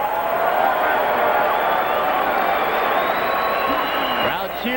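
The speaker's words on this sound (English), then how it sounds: "Crowd cheers for both fighters as the action heats up." A boxing arena crowd at a Hernandez versus Winky Wright bout cheers loudly and continuously, the roar holding steady for several seconds before easing slightly at the end.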